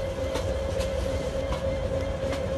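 A local train running on rails as it brakes into Chittagong station in a Bangladesh train simulator game, with a steady, loud rumble, a sustained tonal hum and faint periodic clicks of wheels, without voices.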